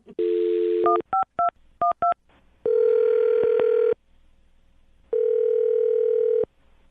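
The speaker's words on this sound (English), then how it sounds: "I'm going to dial his phone number, okay?" Telephone dialing a number: a tone at the start, a quick series of short touch-tone beeps, then two long ringback tones separated by a pause, all loud and clear with no talking.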